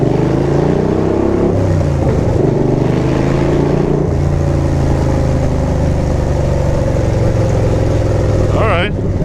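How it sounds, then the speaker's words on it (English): A car's loud exhaust drones and rumbles steadily as it drives across a long wooden bridge, the engine tone shifting with throttle, up close and filling the whole stretch. "my exhaust will be too loud in here."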